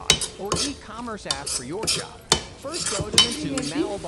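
A spoon stirs palak paneer gravy with curd in a metal pan, giving repeated close clinks and scrapes while a voice sounds in the background.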